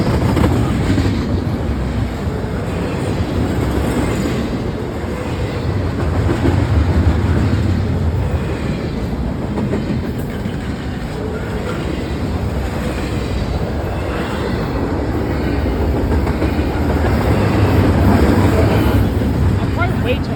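A train rumbles past at close range with a loud, continuous roar and faint clickety-clack of rail cars running the whole way, a voice speaking briefly under the noise.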